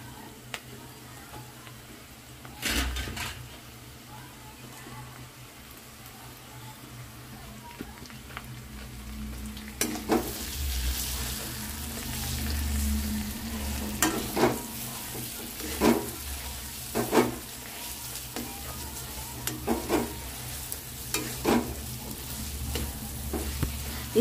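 Chickpea paste roasting in a kadhai with browned onions: a soft, steady sizzle broken by repeated sharp scrapes and knocks of a stirring spoon, close by and without speech.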